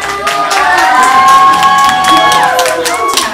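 A crowd at a make-up competition event cheers and shrieks loudly for a DJ being introduced, with high voices holding drawn-out shouts over scattered clapping for a few seconds.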